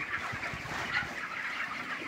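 A flock of 27-day-old chickens on a poultry farm makes a faint, continuous murmur of overlapping clucks and chirps, heard at a distance.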